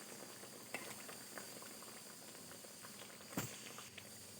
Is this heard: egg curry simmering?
yes